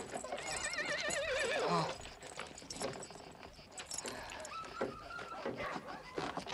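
A horse in a Western film whinnies loudly with a wavering, rising-and-falling cry during the first two seconds. Scattered hoof clops and clattering movement follow, with faint voices in the background.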